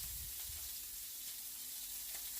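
Shrimp crisping in a hot pan give off a steady, soft sizzle of frying with faint crackles, heard alone at low level throughout.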